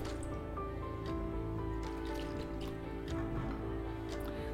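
Rice flour batter for neer dosa being stirred with water, giving soft wet squishing and dripping sounds that run steadily throughout at low volume with no talking.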